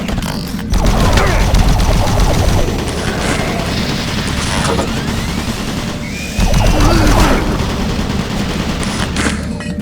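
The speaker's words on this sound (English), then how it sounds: "Warning, automated turret guns online." Automated turret guns fire in the video game DOOM 3: dense, sustained rapid gunfire with heavy booms and mechanical clatter, loud and continuous, swelling in intensity twice.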